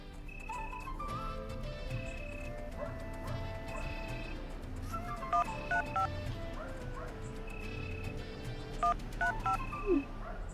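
Mobile phone keypad tones sound as messages are typed in a village, with quick clusters of short electronic beeps over a low background hum, moderately loud and near.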